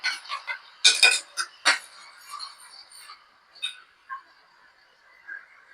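Spice paste stirred into moong dal in a pot, with bright metallic clinks and scrapes of a spoon against the vessel in an irregular cluster early on, then fading to quieter occasional taps.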